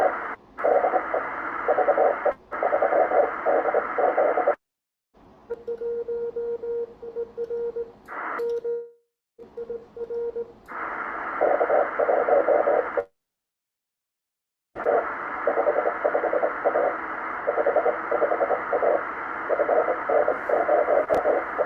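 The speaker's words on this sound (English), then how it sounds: "the really scratchy Morse code was the distant station" Scratchy, aurora-distorted Morse code from a distant radio station, rapid keyed tones buzzing through static hiss and stopping abruptly in bursts, with a couple of silent gaps.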